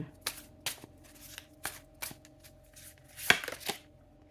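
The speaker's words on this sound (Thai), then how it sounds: "เราขอเลื่อนไพ่หน่อยเนาะ" Tarot cards being shuffled by hand, a series of crisp riffling flicks and soft slaps in irregular bursts, close and fairly quiet, with a faint hum underneath.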